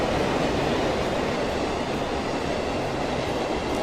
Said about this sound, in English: what I don't like about these electric trains, see, this sounds really good when it's underground